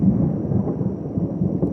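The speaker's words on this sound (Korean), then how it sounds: "지금 천둥 소리가 뭐 굉장히 납니다." Thunder rumbles continuously outdoors at a lakeside park before rain, a loud, deep rolling roar that holds steady throughout with no voices over it.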